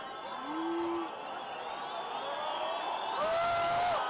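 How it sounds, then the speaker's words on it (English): Home football crowd in a stadium at an Ethiopia versus Lesotho World Cup qualifier, a steady roar with scattered whistles and rising jeers near the end, faint and distant under the broadcast. "Well, the home crowd don't like this"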